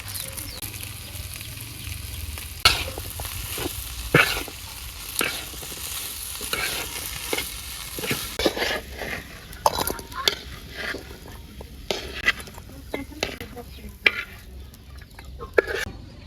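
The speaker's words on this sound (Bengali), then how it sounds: "বুট তো ভাজিয়ে নিলাম" Chickpeas fry and get stirred in a pan, a steady sizzle broken by repeated sharp scrapes and clinks of the stirring utensil against the metal, close and alone with no talk.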